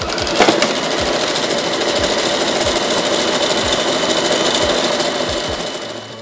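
A sewing machine stitches a mini skirt, a loud continuous whirring hum with faint rhythmic thumps from the needle running steadily throughout.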